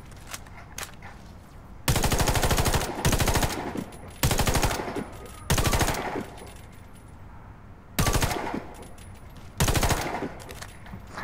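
Rapid automatic gunfire from the video game Warface comes in six loud, sustained bursts of a second or so each, separated by short gaps of quieter game noise.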